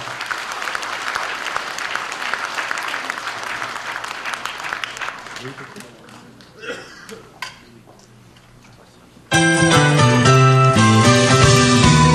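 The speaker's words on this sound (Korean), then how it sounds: "뜨거운 박수로 환영해 주시기 바랍니다." Applause from a crowd welcoming speakers at a political party founding ceremony, sustained and fairly loud clapping that fades toward the middle before music abruptly takes over.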